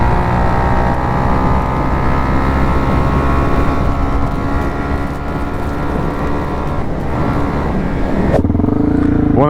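A 400cc supermoto motorcycle engine drones loud and steady while riding, a dense continuous roar that holds for the whole stretch with slight shifts near the end.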